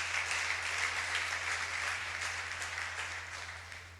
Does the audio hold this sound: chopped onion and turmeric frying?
no